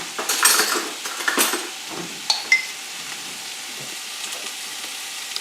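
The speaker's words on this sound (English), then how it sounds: "get those onions just cooking down a little more" Onions cooking down in ghee in a pan, a soft steady sizzle with a few utensil clinks and scrapes against the pan early on, close and moderately loud.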